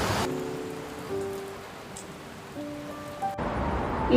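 A cartoon sound effect of a storm with wind and pouring rain makes a steady broadband hiss at moderate volume. It runs under a narrating voice and swells louder at the end.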